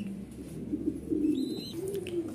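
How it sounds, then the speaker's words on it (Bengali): A pair of black-gold Art Angel pigeons gives a brief, low, rolling coo, close and moderately loud against a steady background hum. "আপনারা দেখতে পাচ্ছেন এক জোড়া black gold colour art Angel কবুতরটা"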